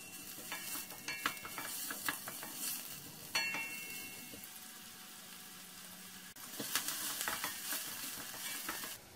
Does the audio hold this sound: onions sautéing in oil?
yes